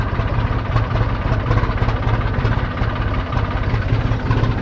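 A tractor engine idles nearby while stuck in uneven, pitted field ground, with a steady, low chugging throb and a faint rattling vibration, unbroken throughout.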